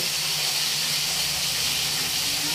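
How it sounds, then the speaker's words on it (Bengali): Potatoes frying in a pan give off a loud, steady, unbroken hiss that fills the whole stretch with no pauses and no voices. "আলু ভাজা হচ্ছে"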